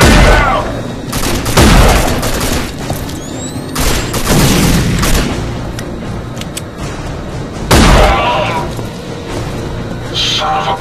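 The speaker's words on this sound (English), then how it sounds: "Grenade out!" Grenade blast and gunfire in a first-person shooter, heard as heavy booms at intervals with bursts of shots between them, loud and close, with people shouting over the action.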